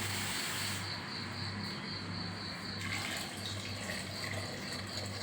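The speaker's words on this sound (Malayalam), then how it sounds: "ചിക്കനിലോട്ട് ഇനി ഇത്തിരി വെള്ളം ഒഴിക്കണം" Water poured onto chicken pieces in a cooking pot for soup makes a steady, even rushing hiss that runs close and continuous with no talk.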